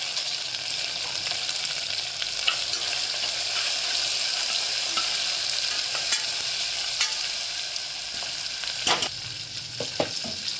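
Tomatoes frying with turmeric in a pan for a dry potato and eggplant sabzi, a steady close sizzle with occasional sharper crackles and stirring scrapes near the end, no talking.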